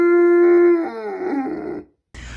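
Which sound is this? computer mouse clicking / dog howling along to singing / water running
dog howling along to singing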